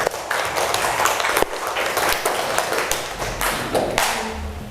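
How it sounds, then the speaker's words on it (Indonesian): Clapping from students in a classroom lesson, a brisk flurry of irregular hand claps and taps, fairly close and steady for several seconds. "Tepuk tangan untuk kalian semua"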